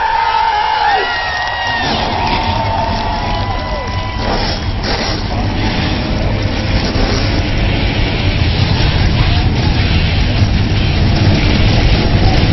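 Race car engines in the iRacing video game rev and roar together over a crowd cheering at a virtual Langley Speedway, a loud continuous din with whistling engine tones rising and falling.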